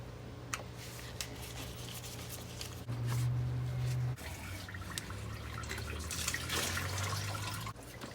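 Engine coolant trickling and dripping down into a car radiator as the hoses are removed, a faint steady liquid flow with scattered drips and a low hum underneath, no talk.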